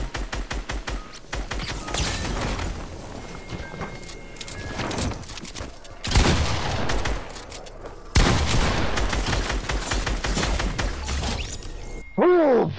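Rapid volleys of video game gunfire in a fight-to-the-death match, loud crackling shots in dense bursts throughout, with a few brief lulls and a sweeping tone at the very end.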